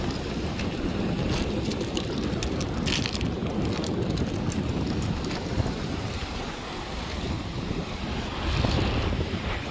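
Strong southerly wind blowing in off the Black Sea at Arkhipo-Osipovka, a gusty roar buffeting the microphone with surf-like noise underneath, steady and loud throughout with no voices.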